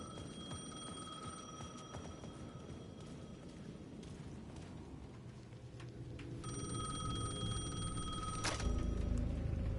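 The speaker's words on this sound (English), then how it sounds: "The payphone at the edge of the plaza was ringing again." Payphone in the video game Alan Wake 2 ringing with a repeated bright electronic bell, in bursts that come back after pauses over a continuous low ambient rumble, growing louder and fuller toward the end.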